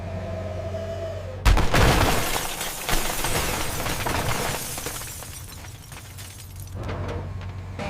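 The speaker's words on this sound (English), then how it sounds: "Glass erupts outward, panels fold, and the car turns into a metal wafer under the press." A car crushed in a press: a loud crunching crash of glass shattering and metal crumpling, followed by sustained grinding and cracking debris over a low mechanical hum.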